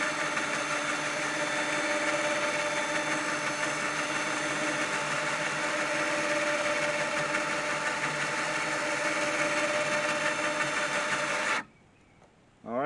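A winch winds its cable onto the drum with a steady, close mechanical motor whine and hum running continuously, then cuts off abruptly near the end.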